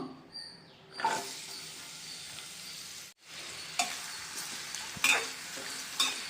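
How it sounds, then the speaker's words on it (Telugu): Chopped onions and green chillies fry in hot oil in a pot for a dry fish curry, with a steady sizzle and several louder bursts of stirring, close and alone. "స్టవ్ ఆన్ చేసి గిన్నె పెట్టి ఆయిల్ వేసాను ఆయిల్ హీట్ అయిందండి ఇప్పుడు ఉల్లిపాయ పచ్చిమిర్చి వేసి ఫ్రై చేసుకుందాం"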